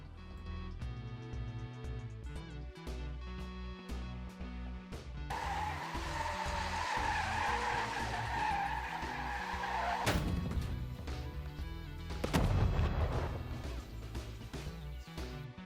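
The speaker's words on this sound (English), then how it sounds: "grab a bunch of sounds, put them together in a sequence inside a timeline, and you have the audio for a terrible car crash" A terrible car crash assembled from layered sound effects in Dreams on PS4: engine revving and tires skidding build into a loud, dense roar, then a sharp smashing impact with rumbling debris, all without any voices.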